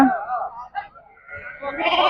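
Sheep bleat repeatedly amid the murmur of the crowded Gudur livestock market, with calls rising and overlapping toward the end.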